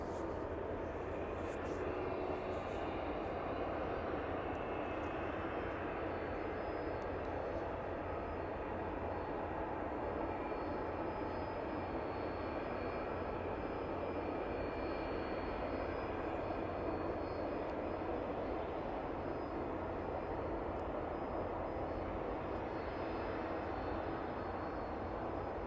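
A plane taxis at East Midlands airport in the evening, a steady low jet-engine rumble with a broad hiss that stays constant and fairly distant throughout.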